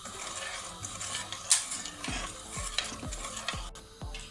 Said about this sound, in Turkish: Şöyle bir karıştıracağım.